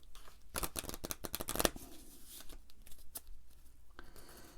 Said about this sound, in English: So we're going to take the monster combat deck here. We're going to shuffle that up.